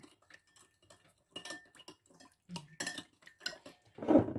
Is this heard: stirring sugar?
yes